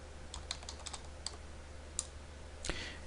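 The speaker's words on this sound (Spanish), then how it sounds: "y tecleo Materials" Someone types on a computer keyboard, entering a word into a software search box: a handful of light, close key clicks spaced irregularly over a quiet room hum, with no speech.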